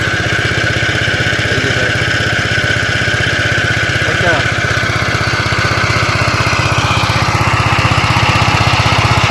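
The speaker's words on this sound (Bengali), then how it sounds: "একটু মেশিনে আওয়াজ হবে বন্ধুরা টেরাকট নতুন মেশিন চালানো শিখছে" Tractor engine running as a new driver learns to operate it in a field, a loud steady chugging rumble close by, with faint voices in the background.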